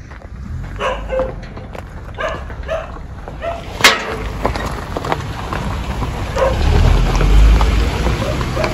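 A dog barks in repeated short bursts at a farmhouse, fairly close, over a steady background of rain-like noise and low rumble.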